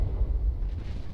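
Heavy naval gun salvo from a King George V battleship in a World of Warships-style game, a deep rumbling boom that fills the short moment with sustained low thunder, loud and close, no voices.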